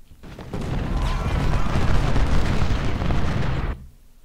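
Massed musket volleys and cannon fire from a Civil War battle at Gettysburg in a strategy game, a dense, continuous roar of rapid overlapping shots and booms that swells in, holds loud for about three seconds, then cuts off.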